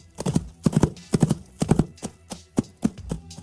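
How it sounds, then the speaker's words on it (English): Foley hoofbeats for a movie horse, a rhythmic clip-clop of hard clattering strikes in quick clustered groups, loud and close with no talk. "including not only the clatter of hooves and the sound of harnesses,"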